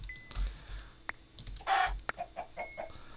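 Chickens in the Minecraft video game give several short clucks and squawks, spaced irregularly over a quiet background.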